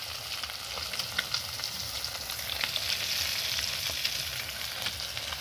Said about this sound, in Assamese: ইয়াত মায়ে মাছ ভাজি আছে